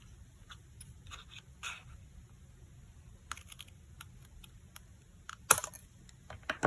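Scissors or a trimmer cut off a paper pull strip on a handmade card, with soft scattered snips and light taps close by, ending in a sharper crisp cut, all fairly quiet over a low background hum.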